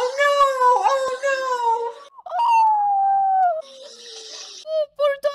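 Dog howling in the 1982 film The Thing, long mournful wavering howls and whines that rise and fall, broken by short gaps and yelps near the end, loud and close.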